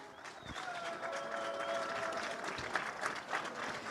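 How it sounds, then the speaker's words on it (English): An audience at a Barcelona race podium ceremony applauds the winners with steady, dense clapping from a crowd, continuous and fairly distant, with a faint voice over the top. "Give a big round of applause for the father and son duo of Cohen Munich and Peter Munich."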